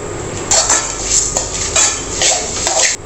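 Red rice flakes (aval) dry-roasting in a pan, a spoon scraping and clinking against the metal in a steady run of stirring strokes, close and fairly loud, with no talking.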